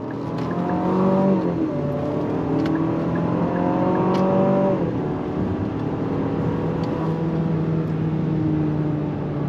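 A 2026 Infiniti QX60 Sport with a 9-speed transmission accelerates on throttle, heard from inside the cabin. The engine note climbs steadily for several seconds, then settles into a smoother cruising hum.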